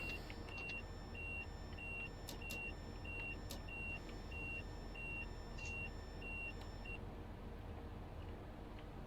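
Repeated short high warning beeps sound at a steady rhythm inside the cab of a Class 395 Javelin train in Train Simulator Classic as the emergency brakes engage, over a constant low rumble of the train.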